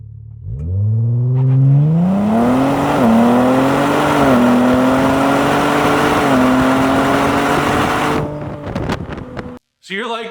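A car engine revs hard through the exhaust, climbing in pitch and holding a loud, throaty drone for several seconds before cutting off abruptly.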